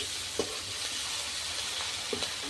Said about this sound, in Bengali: এখন ভালো করে আমি হালকা ভেজে নেব। আর ভাজার সময় আপনারা পুরো মিডিয়াম আঁচ দিয়ে ভাজবেন, তাহলে পেঁয়াজগুলো পুড়বে না।